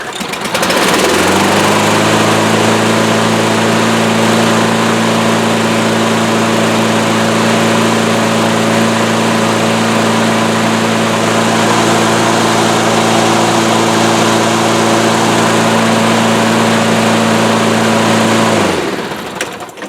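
A small 6.5 hp Briggs engine with a leaky wraparound tank cranks, catches and runs loud and steady for nearly twenty seconds. Its constant buzzing drone stops abruptly at the end.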